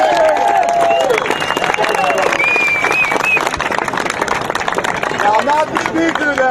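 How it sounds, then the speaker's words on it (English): Audience at an alumni swim benefit applauds for Coach Johnson, sustained clapping mixed with crowd noise and chatter, tonal voices and cheers weaving through the loud, continuous applause. "Let's give a round of applause for Coach Johnson"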